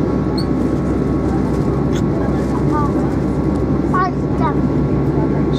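An airplane taking off from Birmingham Airport gives a loud, steady engine roar that stays constant throughout, with faint chirps heard over it.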